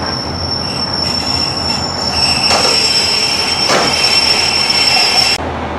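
A train pulls away from Cardiff Queen Street station, heard from on board as a steady loud rumble of wheels on rail, with a high sustained squeal and a couple of sharp clunks as the carriages move through tight curves.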